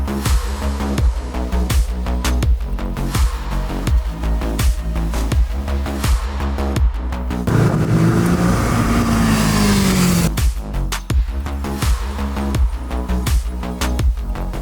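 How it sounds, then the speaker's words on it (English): Kawasaki 650 motorcycles with liquid-cooled 649cc parallel-twin engines rev loudly and rhythmically, with a sustained rising run in the middle before the pulsing revs resume. "The Z650, the Ninja 650 and the Versys 650 are powered by the same liquid-cooled 649cc parallel twin"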